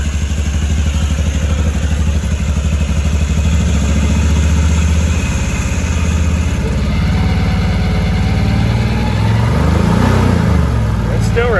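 Close, loud engine of a 2013 Can-Am Maverick side-by-side idling with a mechanical clatter, then revving up and down as the pitch rises and falls.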